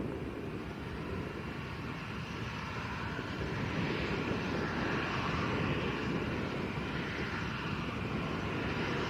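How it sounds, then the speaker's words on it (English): A departing aircraft at Lanzarote Arrecife Airport bound for Eindhoven sends out a steady, distant jet roar that swells gradually and holds broad and even, with no talk over it. "Nice aircraft to start with."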